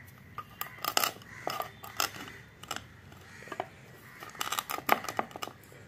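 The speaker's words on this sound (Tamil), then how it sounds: "பாருங்க எவ்வளவு அழகா பெப்பர் வந்து நம்ம இடிச்சிட்டு இருக்கோம் பாருங்க" Black peppercorns are pounded and crushed for ginger and coriander seed tea, giving close, irregular sharp knocks and crunchy scrapes that come in small clusters.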